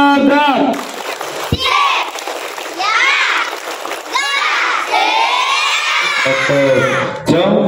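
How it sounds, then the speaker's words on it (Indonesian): A group of young Indonesian scout children chants and shouts loudly together in a lively group game, rhythmic voices interrupted by a couple of sharp claps, sounding close and energetic. "tepuk siaga."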